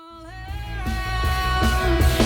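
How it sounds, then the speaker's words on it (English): A sustained synth tone swells and shifts in Cubase with automated reverb, its long reverberant tail washing and blooming continuously, with soft rhythmic pulses underneath and no voices. "you get massive reverb tails"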